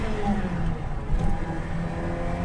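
A car engine, either a Ferrari or a Fiat X19, hums steadily and rises slightly in pitch as the car accelerates and changes gear, heard from inside with a constant low rumble.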